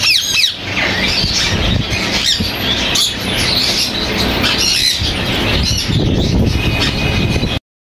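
Ringneck parakeets and conures at a Sunday bird market in Bahawalpur, a dense, loud chorus of overlapping squawks, screeches and chirps with some wing flutter.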